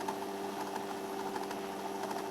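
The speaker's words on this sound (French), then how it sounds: "J'ai jamais vu une moto ronronner comme ça." A motorcycle engine idles in the video game Generation Zero, a faint, even purring hum with a steady tonal drone and no pauses.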